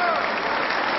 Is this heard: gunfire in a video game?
no